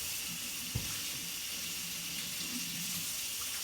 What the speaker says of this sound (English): Before we get to mixing, we gotta wash our hands.